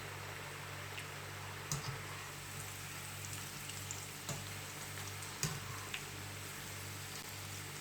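Homemade French fries, cut and coated in flour, frying in oil over a high flame: a steady, soft hiss with a low hum beneath and a few sharp pops and crackles scattered through, with no talking.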